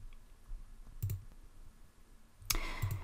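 Two crisp computer mouse clicks, each a close, short double tap, about one and a half seconds apart in a quiet room while working in Excel.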